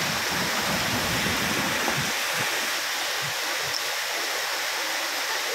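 Puliyuthu Aruvi waterfall at Bodimettu, a loud, steady rush of falling water heard up close with no voices.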